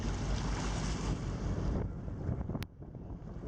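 Wind roars across a beach on the west coast of Coll, loud steady buffeting on the microphone with surf washing beneath, easing slightly toward the end, and no voices.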